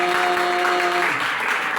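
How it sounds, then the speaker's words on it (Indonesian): Loud applause from a church congregation, a thick wash of clapping that continues evenly, while a steady sustained keyboard tone plays underneath for the first second. "Ayo berikan tepuk tangan dong"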